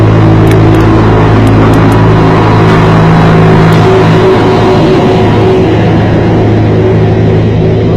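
A small road roller rolls over freshly laid asphalt on a road paving job, its engine a steady, loud, close drone with low rumble running unbroken throughout.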